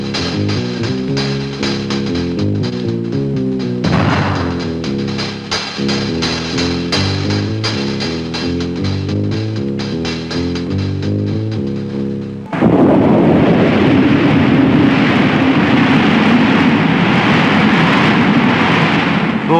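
A French nuclear test explosion and its shock wave: a dense, loud roar of broadband rumble bursts in abruptly after a long stretch of steady orchestral music and sustains to the end.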